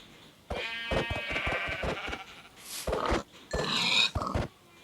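Minecraft sheep giving a string of bleats, several short nasal calls in irregular succession, near and clear over quiet game ambience.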